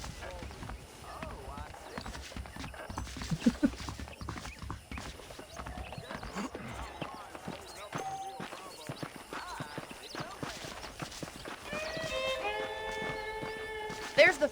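Horses clip-clopping along in Red Dead Redemption, a steady run of hoofbeats under voices talking, with a brief musical swell near the end.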